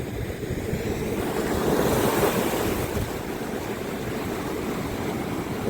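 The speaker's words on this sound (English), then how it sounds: "There goes them waves." Winter ocean surf rolling onto a Tasmanian beach, a steady broad wash of breaking waves with wind buffeting the microphone, swelling slightly around the middle and holding constant throughout, no voices.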